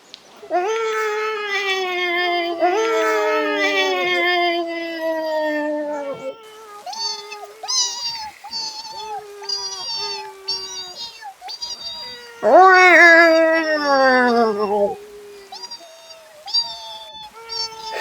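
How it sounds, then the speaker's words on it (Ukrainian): Cats in an animated battle scene yowl and caterwaul while kittens squeal in shrill, frightened cries, a string of loud overlapping meows and wails rising and falling for the whole stretch. "Віддалік він почув кровожерні крики і пронизливий писк переляканих кошенят"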